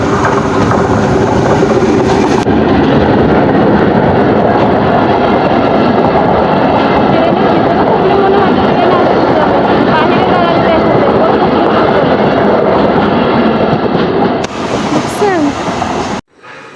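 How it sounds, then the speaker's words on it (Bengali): A train rumbles past nearby in the rain, with a loud, steady roar and rolling rail clatter that keeps up for most of the stretch, then drops away near the end. "ট্রেন আসতেছে।"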